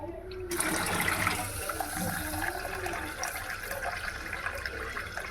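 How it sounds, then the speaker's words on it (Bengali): Rice washed with water in a home kitchen: a steady gush of running water with sloshing and splashing, close and continuous, with faint background voices. "চালটা ধুয়ে নেই।"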